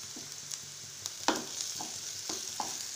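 Onions and curry leaves fry in a pan for kuzhi paniyaram batter, giving a soft, steady sizzle with a few light spatula taps and scrapes spaced through it, close but fairly quiet.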